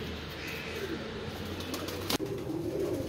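A pigeon coos softly and intermittently at close range over a steady low background, with a brief sharp knock near the end.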